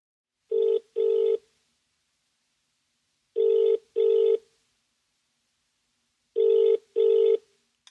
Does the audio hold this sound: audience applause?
no